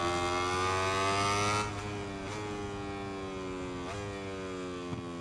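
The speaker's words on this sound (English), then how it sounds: "Hear what the Aprilia sounds like." Aprilia racing motorcycle engine in MotoGP 21, a sustained high, harmonic-rich whine that holds steady, then drops and revs again with brief gear-shift dips, heard alone without talk.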